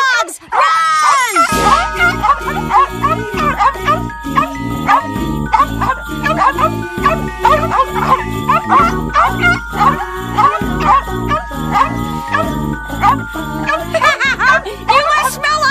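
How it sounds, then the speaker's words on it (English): Guard dogs in the 2002 animated film Rapsittie Street Kids - Believe in Santa bark in quick repeated bursts over bouncy jingling music, close and loud after an opening yelp. "There are... guard dogs! Run!"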